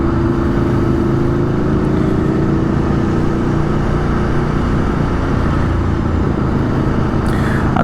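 A 2022 Aprilia Tuono V4 Factory motorcycle pulls steadily in second gear, its engine drone loud and continuous with a smooth rising pitch as the quick shifter changes gear without interruption.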